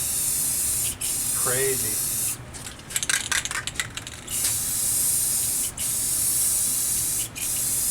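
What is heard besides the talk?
black spray paint sprayed from a can over stencil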